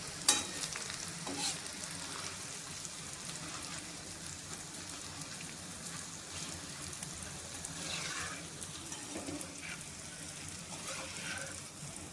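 Small drops of batter for bundi fry in hot oil, giving a steady, fine crackling sizzle throughout with a few brief sharper bursts, fairly quiet and heard alone.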